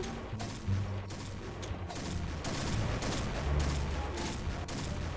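An M200 sniper rifle firing in an online shooter game, heard as a dense run of muffled shots and impacts over a low, rumbling battle background.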